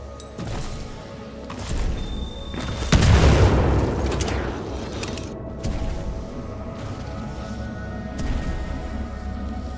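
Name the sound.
frag grenade explosion boost in video game Titanfall 2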